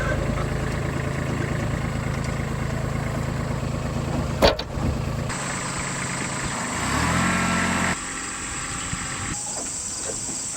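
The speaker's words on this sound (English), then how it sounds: "a small tractor has been perfect for pulling it" A small tractor engine idles and runs steadily, moderately loud, with a brief sharp knock partway through and insects chirping faintly behind.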